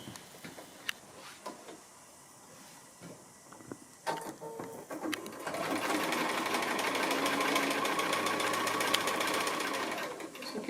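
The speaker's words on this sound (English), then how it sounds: "I'm just heading to the sewing machine with these" Sewing machine chain piecing quilt house-block pieces: a few handling taps and clicks, then the motor starts and runs in a loud, steady, close rattling hum for the rest of the clip.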